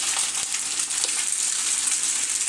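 Pierogies frying in a pan, a dense, steady sizzle and crackle of hot oil close up with no voices over it.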